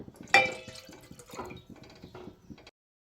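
Water pours into a cooking pot for garlic-chilli egg rice, a short splashing gush with dripping and a slight metallic clatter, close and fairly loud, then stopping abruptly.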